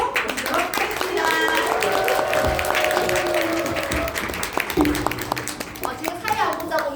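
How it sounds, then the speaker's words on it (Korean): Audience applause at a Monday team gathering in Bundang as a leader is welcomed on stage, sustained clapping across the whole stretch with a few voices mixed in. "큰 박수로 모시도록 하겠습니다"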